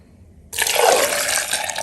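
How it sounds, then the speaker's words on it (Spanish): Water is poured into a blender jar holding two tomatoes, a bit of onion and garlic, beginning suddenly as a steady, loud rushing splash close by with no voices. "Le vamos a agregar agua"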